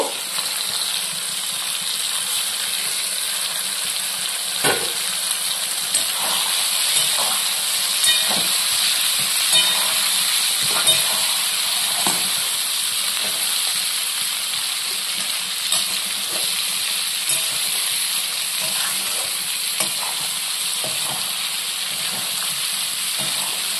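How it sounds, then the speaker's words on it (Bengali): Cauliflower, carrot slices and peas fry together in a pan for a vegetable khichdi, giving a steady close sizzle and hiss with occasional stirring scrapes throughout. "ফুলকপি, গাজর স্লাইস, মটরশুঁটি আছে, আমি এটা পুরোটাই অ্যাড করে দেবো। একসাথে সব সুন্দর করে ভেজে নেব।"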